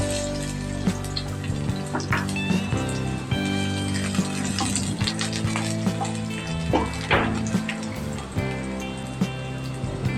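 Onions frying in cooking oil for pork puchero give a steady watery sizzle with small crackles and pops, moderately loud and close throughout, with no talking.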